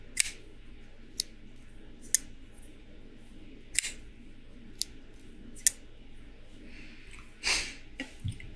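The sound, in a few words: knife blade closing with a small tink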